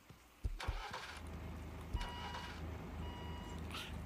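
Car engine starting in Wobbly Life: a couple of clunks, then the ignition catches and settles into a steady idle with a thin beeping tone, quiet and close.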